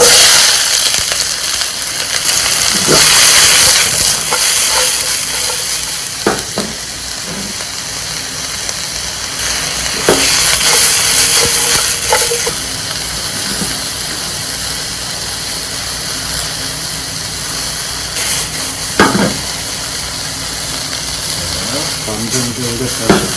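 Sliced ham frying in a little cooking oil in a pan, a steady loud hiss and crackle that swells and eases, with someone talking throughout.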